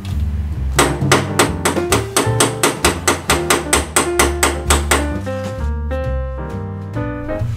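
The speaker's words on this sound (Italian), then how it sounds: "Dopo aver dato un paio di colpi di martello" A hammer strikes a broken lock cylinder in a rapid, even run of about twenty sharp metallic blows, loud and close, before the hits slow and fade into a few lighter ringing taps.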